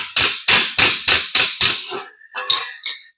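A planishing hammer strikes sheet metal being shaped into trim for a 1941 Ford truck, six evenly spaced sharp metallic hits with ringing decay, then a few softer, irregular taps.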